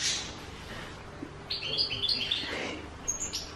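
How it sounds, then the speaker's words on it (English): A small bird in a pet shop gives a quick series of bright, high chirps that are fairly close but soft, set against quiet room noise. "there's also a bird."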